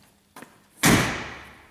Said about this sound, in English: I'm going to shut the door here real quick.